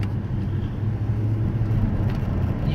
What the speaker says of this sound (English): the car's got such a nice little rumble to it, but it's not loud, it's not overpowering at all